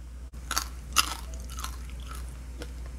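Crispy scorched rice crust from clay-pot chicken rice is bitten and chewed up close, a few sharp crunches followed by softer, irregular crackly chewing over a low hum.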